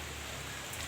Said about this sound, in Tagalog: Parang ambon-ambon lang siya.